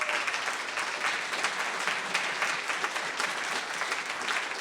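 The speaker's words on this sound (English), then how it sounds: "give them a round of applause." An audience at a city State of the City 2020 event gives sustained, even applause for the mayor's family, a dense roomful of clapping with no talk over it.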